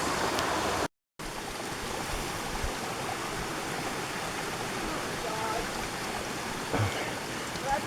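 Steady rushing of water flowing down a mountain trail on Whiteface Mountain nearby, a constant broadband hiss with a brief dropout early on.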